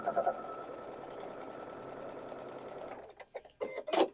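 A sewing machine fitted with a quarter-inch foot runs steadily for about three seconds while stitching a quilt block seam, a loud continuous motor whir that stops and gives way to a few quiet handling clicks and rustles.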